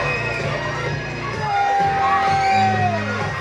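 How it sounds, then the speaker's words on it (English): A Christian Wrestling Federation arena crowd jeers a tag team with a sustained roar of shouts and whoops, loud and continuous, with a few higher voices and yells cutting through. "it doesn't sound like the CWF crowd likes Hart's Legacy"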